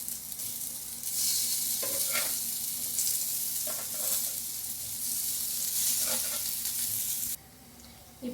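Plantain slices fry in a pan of hot oil, giving a loud, steady sizzle with soft scraping from stirring throughout. Near the end the hiss suddenly drops to a quieter level.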